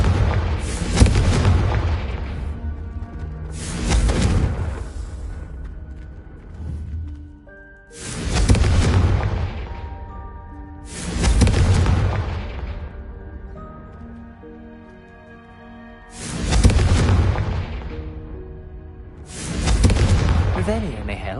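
Confringo blasting spells go off in a video game as heavy booming explosions, six big blasts spaced every few seconds, each rumbling loudly and fading into a ringing tail.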